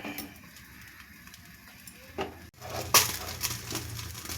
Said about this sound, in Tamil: இப்போ நம்ம தேவையான அளவு தேங்காய் எண்ணெய் சேர்க்குறோம்.